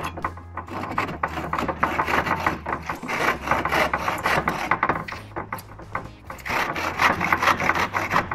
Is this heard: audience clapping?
no